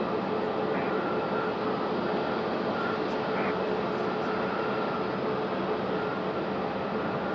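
A Frontier airliner at Raleigh-Durham airport gives off a steady, broadband engine roar that holds loud and continuous throughout, with no voices over it.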